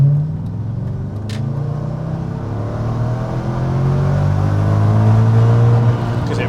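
An Audi RS4 engine drones under load, a deep continuous rumble that rises gradually in pitch and loudness as it revs out, then drops off abruptly at the end.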